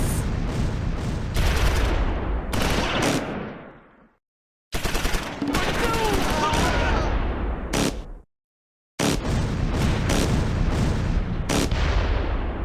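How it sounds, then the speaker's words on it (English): Bursts of machine-gun fire and artillery rattle and boom in the Close Combat 4 Battle of the Bulge war game, with loud dense volleys broken by two short silent gaps. "medium machine gun opens up from the rear of 2nd Platoon's position"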